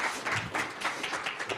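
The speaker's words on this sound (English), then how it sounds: "Can we have a round of applause, please?" An audience at a solar programme closure event claps briefly, a soft, fairly quiet patter of applause from a modest crowd.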